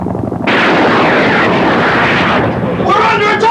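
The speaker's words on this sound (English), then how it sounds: "We're under attack! Soviet helicopters are shooting up the area!" Soviet military helicopters attack, with heavy rotor and engine roar mixed with rapid gunfire and bursts that stay loud and continuous throughout. A raised voice breaks in near the end.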